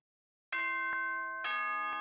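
Nighttime announcement chime from the video game Danganronpa: Trigger Happy Havoc, two clear bell-like ding-dong tones striking out of silence, bright and ringing with a lingering sustain.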